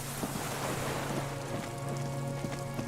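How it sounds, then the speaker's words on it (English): Distant cargo ship signal horns drone faintly and steadily across the water in the Disco Elysium video game, under a constant wash of wind and surf. "Signal horns echo in the water."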